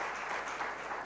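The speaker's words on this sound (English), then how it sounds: "I think he deserves a round of applause." Audience at an indigenous food and seed fair applauding for a long-serving staff member, a dense steady patter of clapping filling the short moment without speech.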